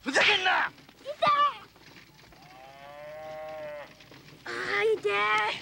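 An ox pulling an ox cart moos with long, drawn-out lowing calls, close and clear, mixed with bursts of strained, yelling voices.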